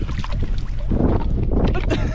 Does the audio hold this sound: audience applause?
no